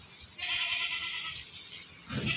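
A large jumbo goat gives one drawn-out, nasal bleat, loud and close, followed by the start of another call at the end.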